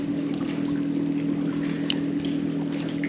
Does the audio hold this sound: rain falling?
no